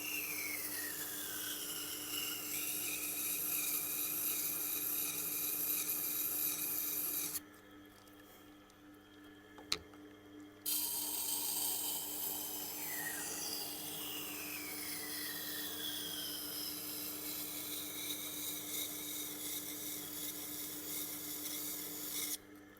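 A Nitro V steel knife blade is ground on a Tormek Blackstone wheel, producing a steady scraping rasp with a pause in the middle. Faint sweeping tones and a low constant machine hum sit underneath.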